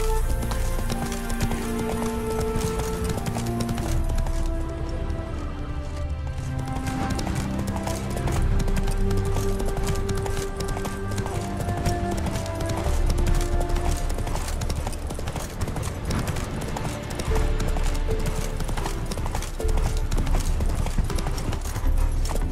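Roach, the horse from The Witcher 3: Wild Hunt, gallops in a continuous rapid clip-clop of hooves, close and steady throughout, with a brief whinny.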